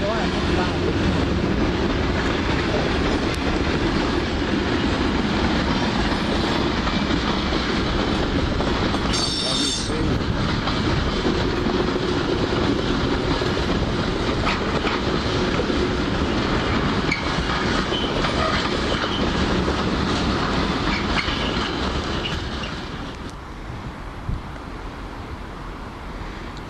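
East Midlands passenger train pulling into a station on arrival from Lincoln, a loud sustained rumble of wheels and engine with a brief squeal, easing off near the end.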